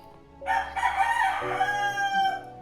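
A rooster crows loudly and close by, one long drawn-out call with a raspy rising and falling tone.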